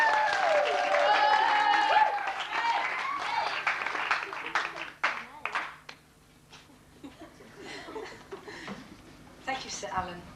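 Debate audience members clap for a speaker being introduced, a short burst of applause mixed with chuckles, following talk and laughter at the start and thinning into quieter murmurs.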